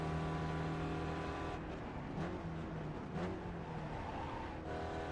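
A Spec Racer Ford race car engine at full throttle on Lime Rock Park in iRacing, a steady loud drone rising in pitch, with brief dips suggesting gear changes partway through.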